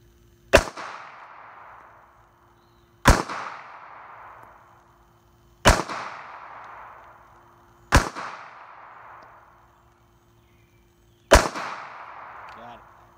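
Five sharp rifle shots fired at a white steel swinger target at 50 yards, spaced a couple of seconds apart, each a loud crack with a short ringing decay, outdoors with no talking.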